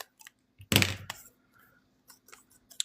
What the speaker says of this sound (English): let's go ahead and cut a little bit extra here